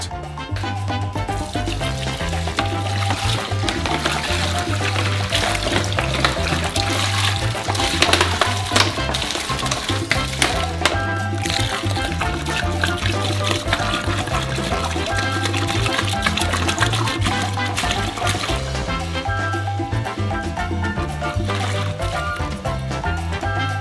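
Steady rushing water pours continuously into a 70-liter basin for a long stretch, a full, even splashing flow with a low constant hum underneath.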